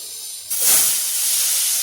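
Small pieces of mushroom, washed with turmeric and salt, go into hot oil for a mushroom gravy, setting off a sudden loud hiss that swells and then settles into a steady sizzle.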